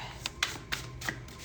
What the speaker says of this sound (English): I done already started shuffling these cards